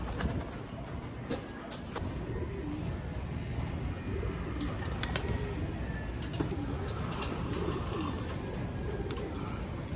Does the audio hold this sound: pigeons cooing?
yes